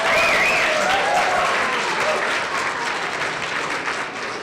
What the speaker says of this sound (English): can we have a round of applause for the Rowe Family Singers?